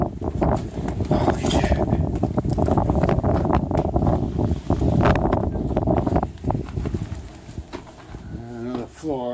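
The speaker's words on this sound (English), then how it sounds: "Strong wind, man." Strong wind roars and buffets through an abandoned hospital's upper floor, loud and continuous, with excited voices speaking over it.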